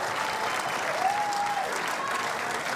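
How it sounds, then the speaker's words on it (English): A crowd at a men's doubles pickleball match applauds steadily, a dense, even patter of clapping throughout. "Crowd admiring the effort there as Devilliers and McGuffin"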